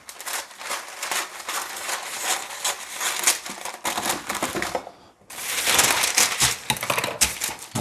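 Dirty parchment paper is cut in close, crisp, crackling snips and crinkles that come in quick irregular bursts, with a brief pause partway through.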